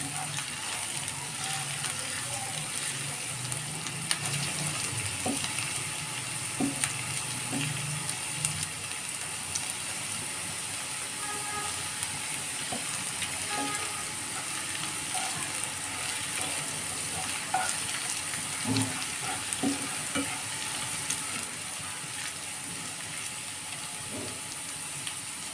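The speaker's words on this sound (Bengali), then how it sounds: "তারপরে এটা নাড়তে থাকবো ব্রাউন কালার হয়ে আসা পর্যন্ত।" Chicken frying in a pan as it is stirred, a continuous sizzle with scattered scraping and clicking stirs, close and moderately loud, with no talking.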